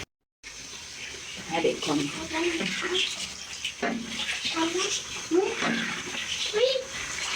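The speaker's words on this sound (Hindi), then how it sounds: "ये आप 2 गिलास पानी के पाए से" Water is poured into a pan of masala gravy for cabbage kofta, a running, splashing gush that comes and goes while someone talks.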